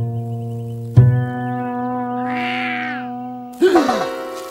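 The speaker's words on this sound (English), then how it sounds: "a cat climbed up the tree this morning" A cat stuck up in a tree gives drawn-out, wavering meows, a few close and clear calls separated by short pauses.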